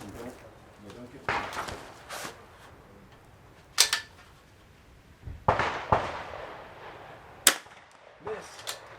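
A few sharp, separate .22 rifle cracks ring out at an NRL22 course of fire, aimed at a far target. They come spaced a couple of seconds apart over a low outdoor background with faint voices.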